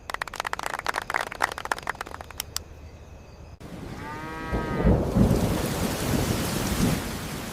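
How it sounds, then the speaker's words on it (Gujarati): Heavy rain pours on a village, a steady broadband wash taking over midway after a brief burst of rapid tapping, with a low rumble of thunder and cattle lowing nearby. "આજે તો ગામમાં ભારે વરસાદ આવ્યો છે."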